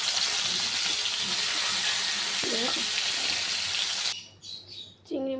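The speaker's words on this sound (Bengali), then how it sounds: "এবার চিংড়ি মাছটা ভেজে নেব।" Prawns fry in hot oil in a pan with a dense, steady sizzle and crackle that holds for about four seconds, then cuts sharply to quieter kitchen sounds with a faint chirp.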